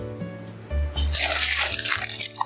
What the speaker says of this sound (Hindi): इसमें पानी में उबाल आ गया है।